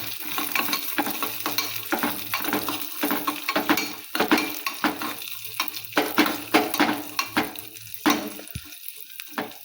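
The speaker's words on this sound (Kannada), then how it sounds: "ಈಗ ಹಾಕ್ತೀನಿ ನೋಡ್ರಿ ದ್ರಾಕ್ಷಿ, ಗೋಡಂಬಿ, ಮನುಕ್ಕಿ ರೀ, ಇವನ್ನೆಲ್ಲ ಹೊರ್ಕೋತೀನಿ" Raisins and cashews frying in hot fat in a pan for huggi payasa, a sweet rice and lentil dish, giving a close steady sizzle with repeated stirring scrapes and clinks, and nobody talking.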